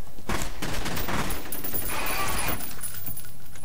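Sustained burst of gunfire from the video game F.E.A.R., a loud rapid fusillade of shots that rattles on for about two seconds before tapering off, with no talking over it.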